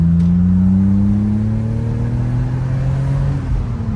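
A BMW 330Ci E46 with a six-cylinder engine accelerating out of a roundabout, a loud, close engine note rising smoothly in pitch as it pulls through the gear, heard from inside without talking.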